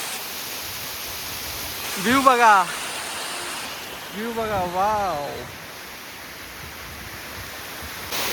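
The Kp Falls waterfall near Khopoli on a trek, a steady rushing roar throughout, with people's voices exclaiming over it twice.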